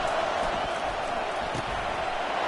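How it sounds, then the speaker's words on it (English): A stadium crowd in the college football video game NCAA 25 roars in a steady, loud wash of cheering while the defense is on the field, with a voice faintly present underneath. "It is getting loud as this crowd tries to help its defense."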